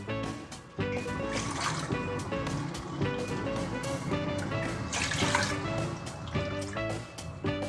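Water runs steadily into a pan of sugar for making sugar syrup for rasmalai, a continuous close pouring and trickling sound with faint background music.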